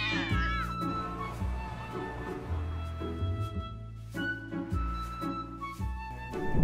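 Cartoon cats meow repeatedly in a dense, overlapping chorus of high, wavering cries set against a steady musical background.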